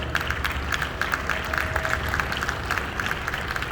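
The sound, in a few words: audience applause at state fair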